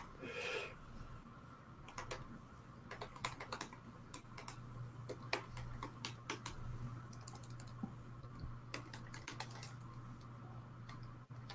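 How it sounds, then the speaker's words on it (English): Typing on a computer keyboard, a steady patter of light clicking keystrokes in irregular bursts over a low constant hum, fairly quiet and close, with no talk. "I'm going to type it out too."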